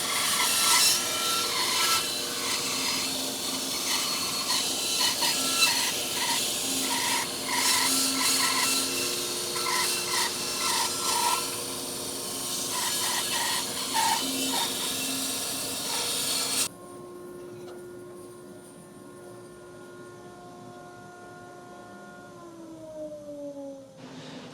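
Bandsaw resawing a board of wood, taking about half an inch off the bottom: a steady, loud rasping cut for roughly seventeen seconds, then the blade runs free and the motor whine winds down.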